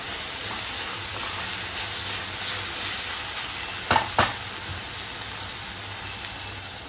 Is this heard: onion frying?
yes